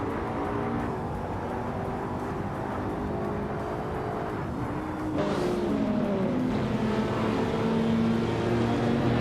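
Subaru Impreza WRX STI engine in a racing video game, a steady mid-range drone with shifting pitch bands that steps up in loudness partway through, continuous throughout with no talk.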